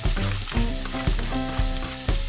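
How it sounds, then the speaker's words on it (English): Rough-chopped red onion sweating in light olive oil in a pan, a close, steady sizzle with a few soft stirring knocks over about two seconds. "light tasting olive oil just to get the red onion going. We want to let it start sweating right away"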